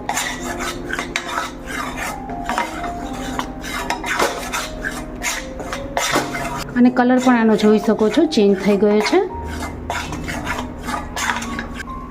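Flour for sukhadi being stirred and roasted in a pan, with repeated scraping and metal-on-pan rubs close by, under a voice talking through much of it.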